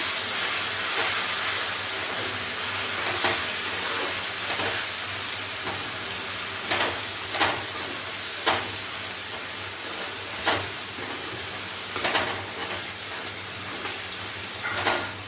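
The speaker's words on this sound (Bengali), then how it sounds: "এবার আমি এটা আবার ভালো করে নাড়াচাড়া করবো।" Chilli chicken sauce sizzles in a frying pan with a steady, loud hiss, broken by sharp spatula clicks and scrapes as it is stirred.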